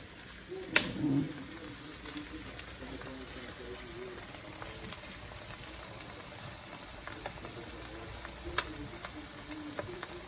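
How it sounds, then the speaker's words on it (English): Okra frying in a pan for shrimp creole gives a faint, steady sizzle with a few soft stirring clinks, and a voice can be heard talking over it. "And it's really frying real good."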